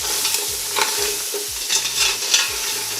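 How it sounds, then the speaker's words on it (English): Seafood washed with salt, lime and vinegar fries in a hot pan, a steady crackling sizzle with repeated stirring scrapes in a regular rhythm, close and loud, with no talk. "you still want to fry that rank water out of it"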